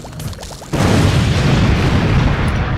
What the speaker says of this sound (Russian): Давай уже устроим взрыв.